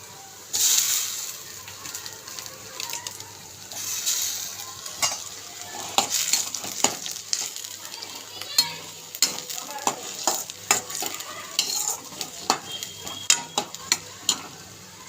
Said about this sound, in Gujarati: સરસ તેલ છૂટું પડી જાય ને પાણી બળી જાય ત્યાં સુધી આપણે ચોળી લઈએ